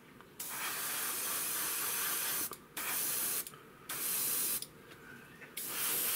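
An airbrush compressor sprays paint in several bursts of steady hissing, each lasting one to two seconds, separated by short pauses and heard up close.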